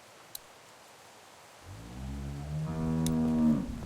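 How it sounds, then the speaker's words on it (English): A cow in The Walking Dead video game gives a single long, low moo that swells and rises in pitch, heard near and clear over quiet ambience. "Do you want to pet the cow with me?"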